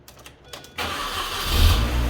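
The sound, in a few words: Mini automatic car engine starting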